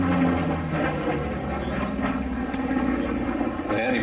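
Grumman F8F Bearcat at the Flying Legends airshow, a steady broad propeller-engine drone at a distance under someone narrating.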